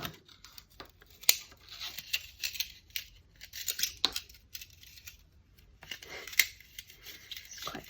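Gold wire snipped with small cutters while making a boho bead, giving sharp, scattered metallic clicks and faint rustles, close and fairly quiet, with a few distinct snips spread across the stretch.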